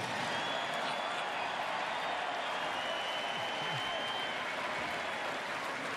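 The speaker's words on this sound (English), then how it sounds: "You better cheer, trust me." A stadium crowd at a Hall of Fame tribute night for a baseball player roars with sustained cheering and applause, loud and dense throughout with no clear break.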